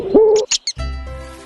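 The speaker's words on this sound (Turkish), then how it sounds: "Hop hop baykuş" A cartoon owl gives a short, clear hoot, followed by a few breathy bursts and then a sustained tonal passage.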